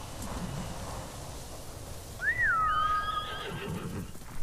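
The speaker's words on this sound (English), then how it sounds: "I love this horse, and I'm so happy that nothing's bad's going to happen to Kage" A horse in the video game Ghost of Tsushima gives one clear whinny with a wavering pitch midway through, set over a soft outdoor wind and rustle bed.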